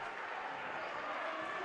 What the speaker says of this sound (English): Crowd here getting a little loud.